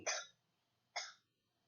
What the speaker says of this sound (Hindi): किसकी खांसी की आवाज आती है